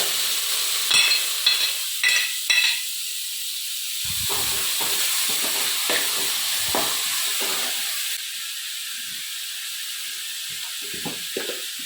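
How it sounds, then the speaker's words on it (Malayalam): Chopped ingredients with eggs sauté in a pan in a village home kitchen: a few clattering spatula strikes, then a steady hiss of frying with scattered scraping stirs that eases toward the end. "അരിഞ്ഞു വെച്ചേക്കുന്നെല്ലാം കൂടെ ചേർത്ത് വഴറ്റുക"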